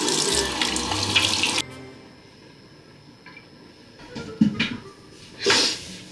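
Water runs from a bathroom sink tap while a face is rinsed, a steady close gush that stops, followed by quieter splashing and dripping bursts as hands scoop water.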